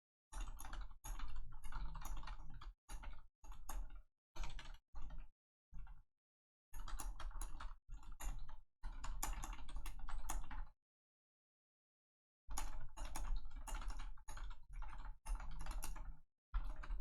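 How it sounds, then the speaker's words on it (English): Rapid bursts of typing on a computer keyboard, dense clattering keystrokes in runs of a second or two separated by brief pauses and one longer silent gap, close and clear with no talking. "At least I got to show off some of my typing speed there."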